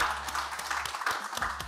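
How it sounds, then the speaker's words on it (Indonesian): An audience at a film promotion event applauds in a brief, dense patter of clapping with a few voices in the crowd. "Oke, boleh tepuk tangan."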